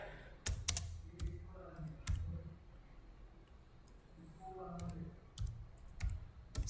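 Someone types C++ code on a computer keyboard, producing sparse clusters of close, quiet key clicks separated by pauses, with faint room hum underneath and no speech.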